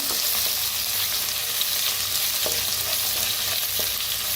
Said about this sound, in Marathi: आता लसूण मिरची चेचून घेतलेली. आता जर छान असं भाजून घेऊया.